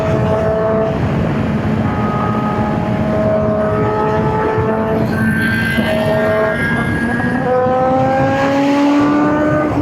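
A Honda CBR1000RR-R Fireblade SP sportbike revs hard at high RPM while riding, a loud, steady engine howl whose pitch climbs and drops through gear changes, with wind rushing underneath throughout.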